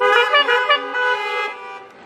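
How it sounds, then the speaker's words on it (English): Car horns honking at an outdoor church animal blessing service, a few overlapping toots in quick succession that fade out after about two seconds. "honk twice."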